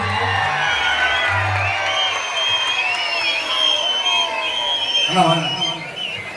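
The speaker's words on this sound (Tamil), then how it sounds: "அண்ணன் அவர்களுக்கு பலத்த கரகோஷங்கள்." A large outdoor crowd at a public event with actor Soori in Rajakkur cheers and whoops, with shouting voices rising and falling over a low murmur, fairly loud and continuous.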